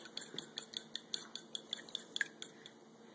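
An egg and cinnamon mixture for French toast is beaten in a bowl, making quick, evenly spaced clinks of a utensil against the dish, fairly soft and close, with no voices.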